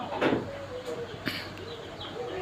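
Soft bird calls from a group of quails, faint chirps and short warbling notes over a steady low background hum, with a brief muffled thump.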